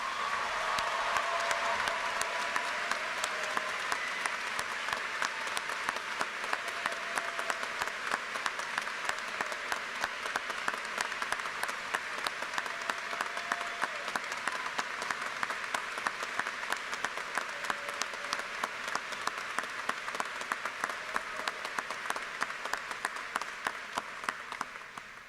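Audience at a Germantown senior graduation ceremony applauds students who have enlisted in the military: sustained, even clapping from a large crowd in a hall, lasting the full stretch at moderate distance with no speech over it.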